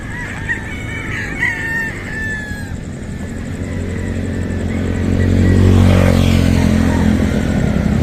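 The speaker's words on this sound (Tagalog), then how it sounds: "lahat po ng mga lagayan na yan ay may mga nakalagay po na alagang manok" Chickens on a high-grade poultry farm in San Agustin, Hagonoy, Bulacan cluck and call at middle distance over a steady ambient farm hum, with a rooster-like cry early and the background growing louder near the end.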